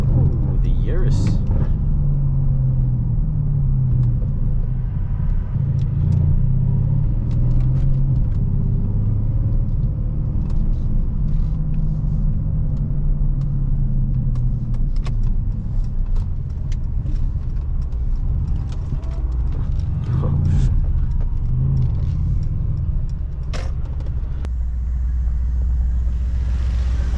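A Mercedes-AMG car engine rumbles steadily from inside the moving car, a low continuous drone with some swells, while people talk over it throughout.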